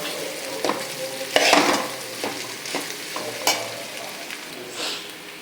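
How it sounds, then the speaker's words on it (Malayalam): Spoon scrapes and stirs elephant foot yam and chillies around a pan in irregular close strokes, several louder scrapes standing out over a steady soft sizzle, with no talking. "ഇത് നന്നായി ഇളക്കി യോജിപ്പിച്ച് ഈ മുളകൊക്കെ ഇട്ട്"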